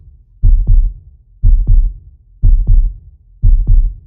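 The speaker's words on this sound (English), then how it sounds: "Let mommy's heartbeat ease your worries" A heartbeat thumps loudly and close in an even, slow rhythm, each beat a doubled lub-dub, four beats with quiet gaps between, no talk.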